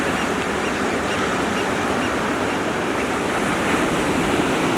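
Ocean waves break steadily on a beach at sunrise, a continuous loud wash of surf with wind noise and no pauses between swells.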